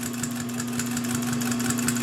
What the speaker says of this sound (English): I actually prefer the feel of the clutch motor to a servo motor